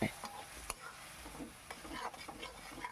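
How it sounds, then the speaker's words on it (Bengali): Spice masala stirred and fried in a pan for a Bengali-style egg omelette curry, with a steady close sizzle under repeated scraping strokes of a spoon against the pan. "দেখুন এর ভালো করে একটু নাড়ি চাড়িয়ে নিচ্ছি ভালো করে একটু কষিয়ে নিচ্ছি"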